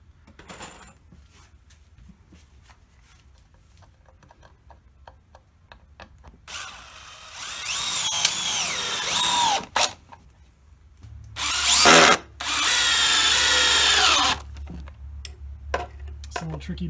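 Power drill driving 3-inch screws into 3/4-inch wood pieces while building a box frame for a motorized bumper car, two loud whirring bursts separated by a short pause, with quieter handling noises before and after.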